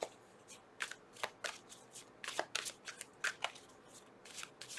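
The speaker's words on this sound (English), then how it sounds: "I'm gonna reshuffle it because it was the Queen of Pentacles" A deck of tarot cards is shuffled, giving a series of crisp, papery riffling bursts in an uneven rhythm. The sound is close and nothing else is heard.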